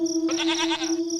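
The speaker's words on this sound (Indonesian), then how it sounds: "Dan anehnya, suara kambing itu pun terus saja melembek." A goat bleats once, close and clear, in a wavering drawn-out cry lasting under a second over a steady background hum.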